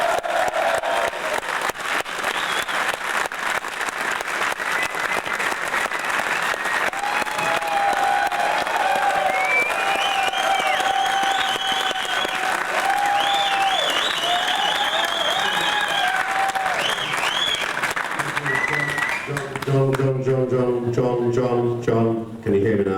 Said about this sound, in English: will you please give a big convention welcome to David Palmer.